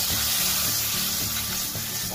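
Milk poured into roasted gram flour in a hot pan sets off a loud, steady sizzle with a bubbling, hissing texture and no speech.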